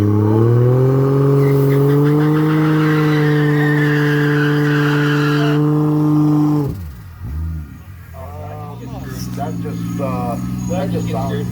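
A drag-racing car with a Toyota 2JZ engine and automatic transmission accelerates at a drag strip. One loud, sustained engine roar climbs through the gears, drops off sharply, then settles into a lower rumble with crowd noise.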